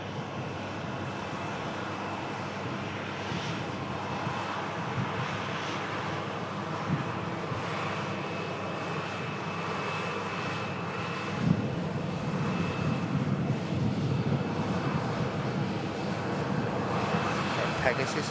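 A TUI airliner taxiing past at an airport, a steady broad jet engine roar with wind noise that builds slightly in the second half, with a person talking over it.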